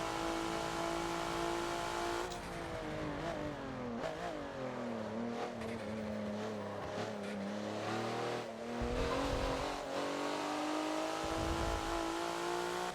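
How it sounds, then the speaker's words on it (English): A race car in the Forza game on the Hockenheimring slows for a hairpin, its engine pitch dropping through downshifts before climbing again, steady and close with no talk. "Okay, and down for the brake for the hairpin."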